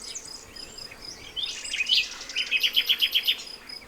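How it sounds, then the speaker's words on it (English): A bird sings in the background outdoors: high, thin chirps build into a quick, evenly repeated run of bright notes, moderately loud over soft ambient noise. "please let us know what that bird is in the background if you can"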